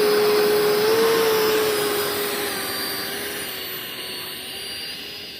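A FMS 90mm 1900kv electric ducted fan on a Freewing Eurofighter Typhoon model jet runs at a steady high-pitched whine with a loud rushing roar that fades slowly as it moves away.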